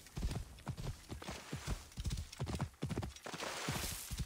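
Rhythmic clip-clop of a horse galloping in the video game Assassin's Creed: Origins, steady hoofbeats close by with a faint whinny, no voices.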